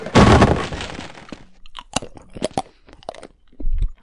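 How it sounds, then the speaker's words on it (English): Candy pickup sound from a Half-Life Christmas mod: a loud crunching bite, then a run of wet, irregular chewing clicks and smacks, ending with another heavy crunch, all close and with no talk. "It's literally just someone stuffing a piece of candy in their mouth and chewing it for a bit."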